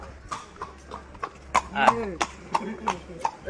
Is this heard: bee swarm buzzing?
no